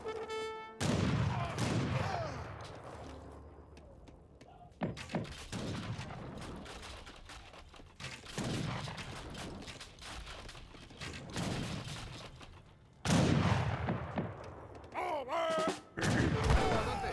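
Falconet artillery volleys in an Age of Empires 3 battle, heavy booming gunfire bursts repeating across the stretch with brief lulls between salvos, loud and dense alongside skirmish noise.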